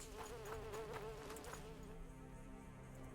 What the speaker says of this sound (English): I heard a bee or something